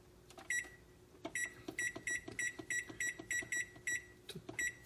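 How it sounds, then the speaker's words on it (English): A kitchen timer beeps in quick repeated bursts, a dozen or so short electronic tones in a steady rhythm, close and clear in a quiet kitchen while rice cooks. "Again, I will set my timer"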